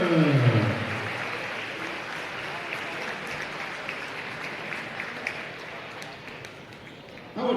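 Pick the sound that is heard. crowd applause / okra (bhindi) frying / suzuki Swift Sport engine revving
crowd applause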